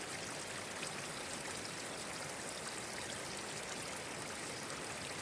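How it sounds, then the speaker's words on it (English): Water pours down over rocks beside a mountain trail, a steady, close rushing and trickling that stays even throughout. "we have some nice water here coming down the rocks"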